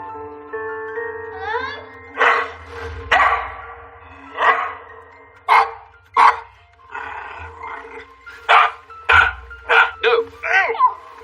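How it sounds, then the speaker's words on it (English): A dog barks repeatedly in loud bursts indoors, mixed with shouting voices and other noise, with irregular gaps between the barks. "It's a dog. That's what's wrong. It's always barking."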